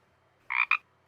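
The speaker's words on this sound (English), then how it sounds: "Ribbit. That's the word scientists use to describe the call of the Pacific chorus frog." A Pacific chorus frog gives a short two-part croaking call, a raspy double note in quick succession, close and clear against near silence.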